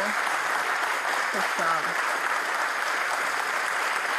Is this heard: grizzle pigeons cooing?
no